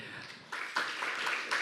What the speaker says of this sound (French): Merci mesdames, on vous applaudit